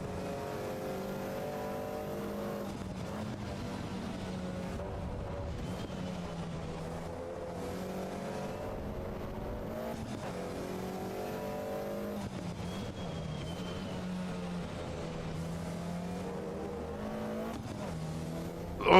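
Race car engine in Assetto Corsa EVO, a steady loud drone through the whole stretch with repeated rises and dips in pitch as it revs up and shifts, no voices over it.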